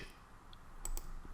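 A few quick computer mouse clicks, two sharp close taps in rapid succession over a quiet room background.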